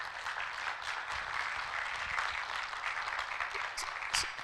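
An audience applauds at a TB and lung health symposium, with steady, fairly dense clapping from a mid-sized crowd that runs for several seconds at moderate loudness.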